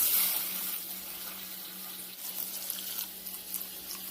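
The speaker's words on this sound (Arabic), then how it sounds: "انزل بقى عليه بمية سخنة وكمل تسوية." Hot water poured steadily into a cooking pot holding a duck with a cinnamon stick, salt and pepper, a close, continuous splashing rush with no talk.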